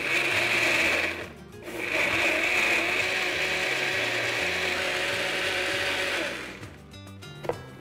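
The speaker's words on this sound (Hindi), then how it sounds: "इसी के अंदर हम डालेंगे ज़रा सी चीनी और अब इसे हम बंद करके बिल्कुल पीस लेंगे।" An electric blender grinds tomato ketchup and sugar into a chili paste with a loud, steady whirring roar. It dips briefly and then runs on before winding down near the end.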